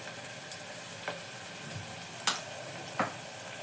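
Chopped onions cooking in a pan: a soft, continuous sizzle with several light scrapes and taps from a stirring utensil, heard close up and fairly quietly.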